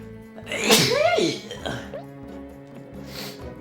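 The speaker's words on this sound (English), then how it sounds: "I sneeze like an anime samurai." A single loud, sharp sneeze bursts out up close, followed by a brief sniffly breath and quieter vocal sounds.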